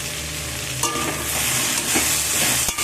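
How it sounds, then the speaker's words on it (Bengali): Potatoes are stirred and fried in a pan for a chingri posto dish, giving a steady close sizzle with scraping strokes from the spatula and no voices. "আলুটাকে খুব ভালো করে নাড়াচাড়া করে নেব"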